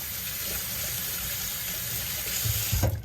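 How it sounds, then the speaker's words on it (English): Water tap running steadily into a sink while glaze brushes are washed, a continuous close splashing hiss that swells with heavier gushing near the end. "take them over here and just wash them out."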